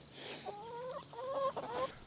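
Chickens in a rickety backyard coop give soft, quick clucks and a couple of brief tonal squawks, heard close and fairly quiet over a low background hum.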